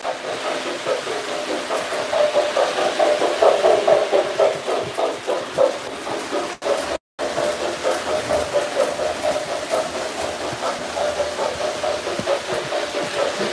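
A steady, loud mechanical rumble of a running train engine with rhythmic chugging texture and a brief dropout midway.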